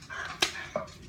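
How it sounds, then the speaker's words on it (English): Dogs barking indoors, two short close barks with a brief whine between them, fairly loud over a quiet room. "Sorry about the dogs again. It's just happening."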